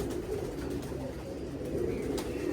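Pigeon cooing, low soft murmuring coos repeating steadily and close by from birds with white ears, under a continuous background hum with no clear talk.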